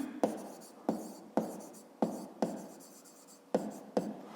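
Pen on paper writing numbers for a fifth-grade math exercise: seven quick, close scratching strokes in an irregular rhythm, each a sharp onset fading into a short scrape, with quiet pauses between and no talk.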